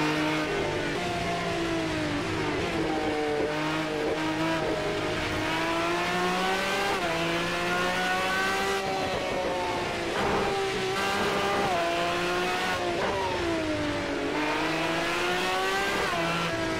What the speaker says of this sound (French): Ah non, c'est une Ferrari et une Lambo.